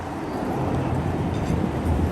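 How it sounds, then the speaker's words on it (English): A New York City subway 6 train rumbles past as steady, loud broadband roar with low-end weight, continuous throughout with no voices. "That's the 6 train right there"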